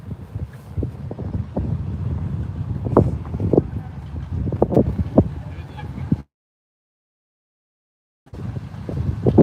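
Wind rushing through the woods at High Point State Park, a steady broadband roar with gusty swells that cuts off briefly near the end before returning; no clear talk over it.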